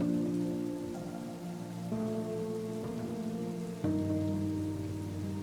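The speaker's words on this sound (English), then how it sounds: "although it was still raining, it wasn't quite as biblical as the night before" Steady rain falls in Iceland, pattering evenly on a surface close by, with a continuous low drone running underneath and no voices.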